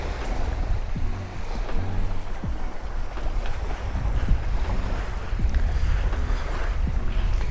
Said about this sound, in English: Let me walk by the beach so you could hear the waves too.